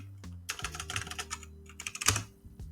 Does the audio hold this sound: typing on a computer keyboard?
yes